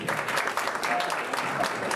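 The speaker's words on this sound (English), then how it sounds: "give a round of applause to our panelists" At a jazz club panel event, the audience gives the panelists a round of applause, a full, even roar of many hands clapping continuously at moderate distance, with a faint voice briefly audible through it.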